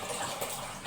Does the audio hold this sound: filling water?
yes